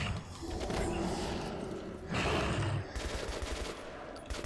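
Video game gunfire from Metro Last Light: bursts of rapid automatic shots crackle in two dense volleys with a short gap between, loud and close, amid a busy combat soundscape.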